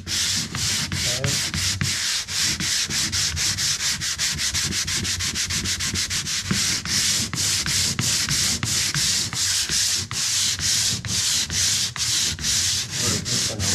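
Sandpaper lightly rubs over a patched wall in steady, rapid back-and-forth strokes, a close, loud scratchy rasp that repeats without pause and with no voices.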